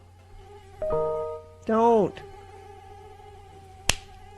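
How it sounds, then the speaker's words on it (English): Mosquito buzzing comes in two short whining bursts, followed by a sharp slap. A voice says a brief word. "God, I hate mosquitoes."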